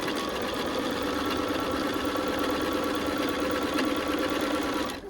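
A sewing machine stitches the seams of an Ohio Star quilt block, running in one steady, continuous mechanical hum and rattle at close range with no talking. The motor stops abruptly right at the end.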